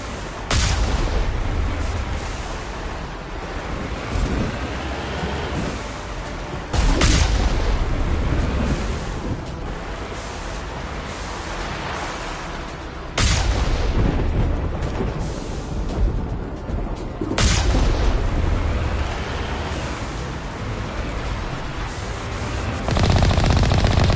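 Heavy artillery fire and explosions in the Mass Effect video game roar continuously and loudly, with several big booming blasts every few seconds over a dense rumble of gunfire, with no talking.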